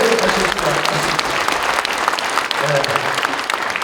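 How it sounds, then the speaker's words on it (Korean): A congregation at a Gyeonggi Province New Year leaders' prayer breakfast claps loudly and continuously in a dense, even wash of applause, with a faint voice briefly audible within it. "기왕이면 하나님 앞에 영광의 박수를 좀 쳤으면 좋겠습니다."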